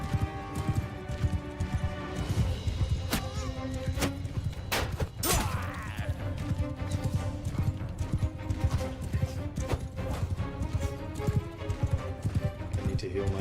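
Horse hooves gallop in a steady clip-clop through a battle in Mount and Blade II: Bannerlord with The Old Realms mod, near and continuous beneath clashing combat noise and occasional whinnies.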